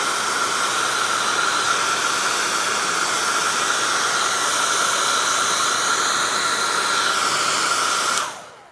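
A heat gun or hair dryer blows a loud, steady airy roar for about eight seconds while warming the corners of a matte skin on an iPhone 11 Pro Max, then cuts off abruptly.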